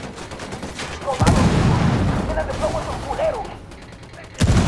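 Gunfire in Ghost Recon Wildlands, a sharp loud shot followed by a rumbling tail with scattered mechanical rattles, then a second abrupt blast near the end.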